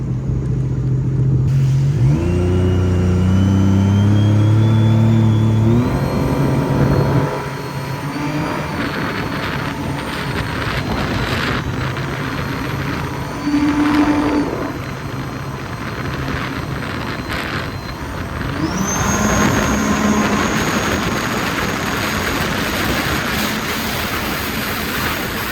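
A Sea-Doo RXPX jet ski with a Stage 1 Calas tune and Calas cam revs hard and accelerates, its engine whine climbing through steps and then holding a loud, sustained high-speed drone for the whole run.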